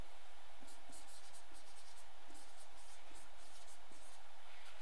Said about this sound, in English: let me go ahead and write that down